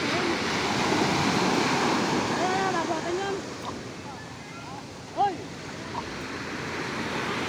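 Strong sea waves surge and wash in a continuous broad roar with wind buffeting the microphone, heard from a boat at sea, while faint voices talk in the background.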